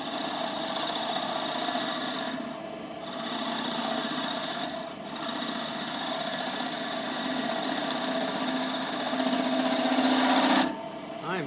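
Skew chisel cutting a 2x4 goblet spinning on a wood lathe, a steady motor hum with ongoing cutting noise, short gaps as the tool lifts off, and a brighter burst of cutting near the end before the sound cuts away.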